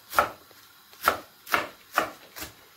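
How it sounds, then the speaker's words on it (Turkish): Five sharp knife chops through spinach on a cutting board, spaced about half a second apart, close and clear with quiet between strokes. "ben birazcık ıspanaklarımızı doğrayalım."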